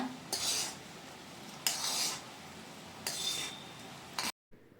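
Jaggery stirred with water in a pan for a traditional Karnataka sweet, three separate bursts of a spoon scraping and clinking around the metal pan with quiet pauses between, ending abruptly.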